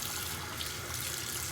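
Warm water runs steadily from a sink faucet while a makeup brush is rinsed under it. It makes a continuous, even hiss and splash at close range with no pauses.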